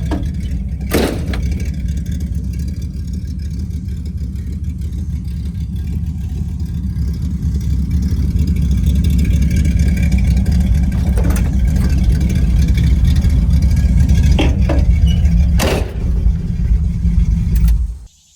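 A 1982 Oldsmobile Cutlass Supreme being driven on the street drones with a loud, low engine rumble that builds and holds under acceleration, with a few sharp clicks and knocks, before cutting off abruptly.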